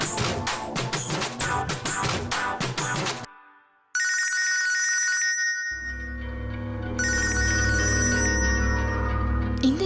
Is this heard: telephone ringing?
yes